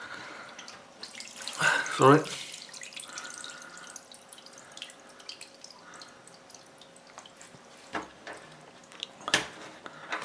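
Water drains from the opened drain filter of a Logik washing machine that has the E21 not-draining fault. It runs steadily as a faint wash of splashing with a louder burst near the start and a few drips, and a voice briefly speaks.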